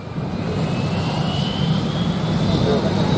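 A JetBlue jet takes off at Montego Bay airport in Jamaica, its engines giving a loud, steady roar with a slowly rising whine; voices talk over it.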